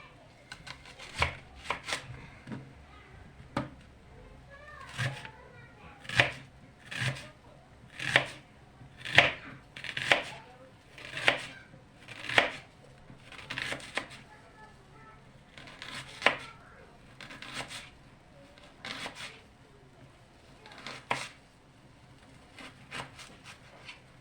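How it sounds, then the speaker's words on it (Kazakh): A knife chopping onions on a cutting board, close crisp thuds in uneven bursts and steady runs across a quiet room, with a few pauses between strokes. "Пиязымызды турап дайындап қоямыз"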